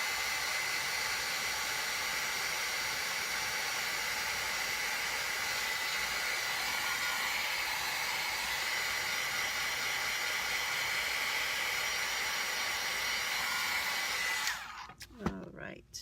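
A hair dryer blows steadily and loudly for about fourteen seconds, drying wet paint on a painting, with a constant hiss that cuts off abruptly near the end, followed by brief clatter.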